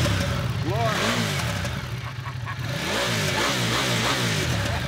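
A Ducati Diavel motorcycle engine runs close by and rises and falls through several revs, with voices talking over it.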